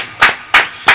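Hand clapping in praise during a Hindi Bible study session on the Trinity: three sharp, evenly spaced claps ring out close and loud, with no talking in between.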